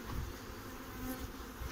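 Honeybees shaken from a hive frame onto the ground before the hive entrance during a spring brood-box frame change, with drones among them, give a steady close buzzing swarm drone that runs throughout, ending in a brief loud thump.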